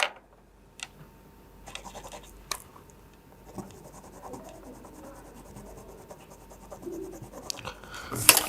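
A pen scratches out a concave mirror ray diagram on paper in short, faint, intermittent strokes separated by quiet gaps, with a louder rub at the very end.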